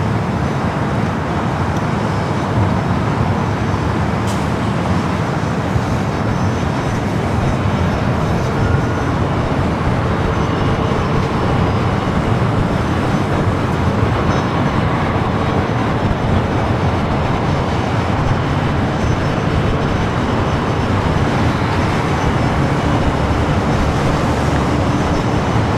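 An airliner arriving at Los Angeles airport on a flight from Paris, a loud, steady broadband roar of engine and rushing air that stays constant throughout, with no voices.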